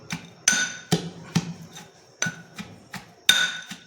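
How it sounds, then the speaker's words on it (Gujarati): Fenugreek seeds, coriander and chillies pounded in a mortar for Maharashtrian thecha, sharp irregular thuds and knocks, about eight strikes in under four seconds, close and alone. "બધું મિક્સ કરીને ક્રશ કરી દઈએ"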